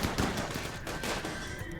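Rapid gunfire in a RimWorld fight against a mech cluster, a dense, continuous rattle of shots and impacts lasting the whole moment with no pause.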